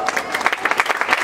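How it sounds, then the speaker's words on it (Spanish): Crowd applause from an audience at a community ceremony as names are read out, a steady burst of dense clapping that holds at moderate loudness for about a second. "Aníbal Ramiro Teletor Gómez, denle un aplauso"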